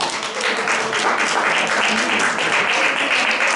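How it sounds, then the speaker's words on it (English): An audience at a live mind-reading stage show breaks into applause, a dense, even wash of clapping that stays steady and fairly loud throughout, with no voices over it. "Give them a round of applause."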